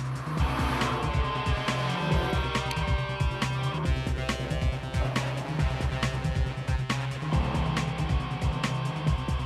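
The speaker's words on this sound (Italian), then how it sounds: "Partenza la macchina, la macchina." A race car pulls away from the start, its engine revving loud and close with repeated rising pulls and shifts, tires squealing over a rough, continuous roar.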